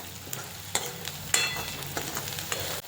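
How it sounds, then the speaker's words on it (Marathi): Onion with ginger-garlic paste sautéing in oil for an egg chingari starter, a continuous close sizzle broken by several scraping stirs of a spatula, with no talk. "आता त्यामध्ये आलं लसूणची पेस्ट घालायची. त्यालासुद्धा तेलात व्यवस्थितशीर परतून घ्यायचा."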